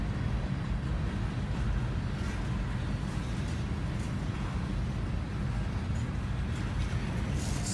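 A long freight train of 167 cars, pulled by three locomotives, rolls past at a crossing. It makes a steady, dense rumble and rattle of wheels and cars from start to end, with no talking.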